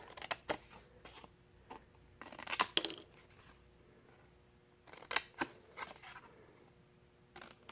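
Scissors snipping a thin slice off paper for a memory cube craft, heard as a few short, close, quiet cuts and rustles separated by pauses. No one speaks.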